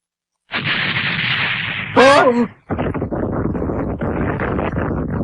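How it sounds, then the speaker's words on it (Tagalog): Firecrackers burst in an anime episode as a dense, loud crackle of pops and bangs, broken briefly by a shouting voice before the rapid crackling resumes. "Mga paputok!"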